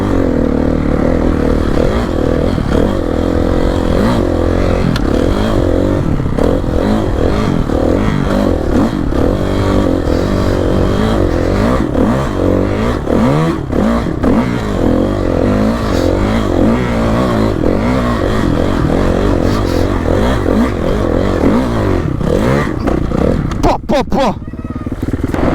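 A motorcycle ridden on a training course makes a pass, its engine revving steadily and loudly throughout, with a rougher burst and clatter near the end; voices talk faintly underneath.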